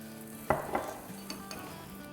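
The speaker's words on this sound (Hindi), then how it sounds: "मीडियम लो फ्लेम पे अच्छे से इसको क्रिस्पी होने तक फ्राई करेंगे" A laccha paratha frying in oil on a pan over a medium-low flame, with a faint steady sizzle and a couple of quick scraping taps from a spatula, heard close up.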